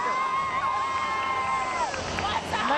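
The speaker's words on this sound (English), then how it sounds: "Nice crowd out here tonight. Loud, boisterous, into their volleyball." Loud, boisterous crowd at a women's volleyball game in Reynolds Gym, a steady wash of cheering and babble with a sustained tone over it and no clear pauses.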